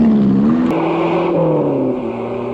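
A car engine revs loud and close, its pitch rising and falling as the vehicle speeds away through a getaway, continuous with no talk.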